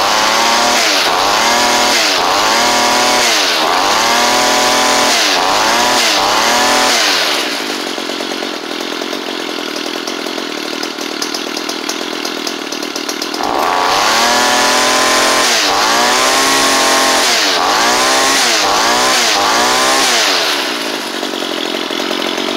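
A small two-stroke engine on a Ryobi weedeater or Mantis tiller running after a carburetor kit repair, loud and close. It revs up in repeated bursts, drops to a rough idle, then revs hard again, with no talking.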